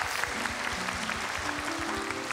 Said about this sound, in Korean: 여러분 박수로 따뜻하게 맞아주십시오